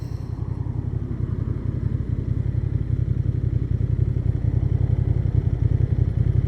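A Honda Transalp motorcycle idles at an intersection in first gear with the clutch pulled in, its engine giving a steady, close, even low throb that holds throughout.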